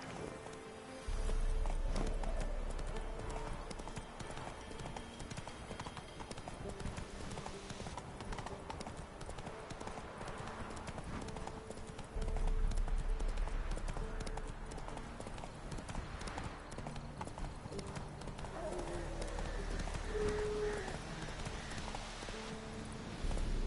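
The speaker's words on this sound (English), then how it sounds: "Whoa there, Roach" Horse hooves clip-clopping and galloping in The Witcher 3 video game, a steady rhythmic beat of hoof strikes over continuous game ambience and music, fairly close throughout with no speech.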